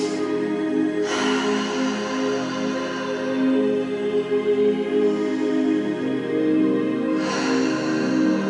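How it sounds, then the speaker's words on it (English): Slow, breathy exhale through a gently constricted throat during a yoga breathing exercise, a soft continuous rushing like distant waves, with a brief gasp-like intake near the start and another swell toward the end, close and steady. "very gently constrict the back of your throat so it sounds like the sound of crashing waves"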